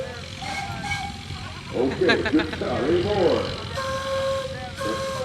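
A steam engine's whistle sounds in steady tonal blasts at the Darke County Steam Threshers parade in 2015, mostly late in the clip, under and between a voice speaking over a busy outdoor crowd.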